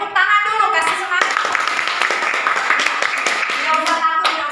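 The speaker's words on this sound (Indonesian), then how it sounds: "Oke, tepuk tangan dulu, kasih semangat." Classroom students clapping to encourage presenters, a close, lively burst of hand claps with individual sharp slaps audible and some voices mixed in.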